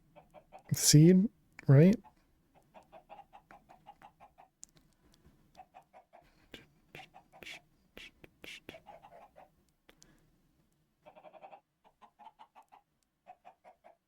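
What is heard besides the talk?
chickens clucking in a video game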